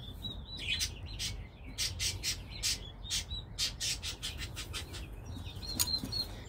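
Pet birds in a home squawk and chirp in a steady run of sharp calls, with occasional wing flaps and a louder call near the end, set over a low background murmur.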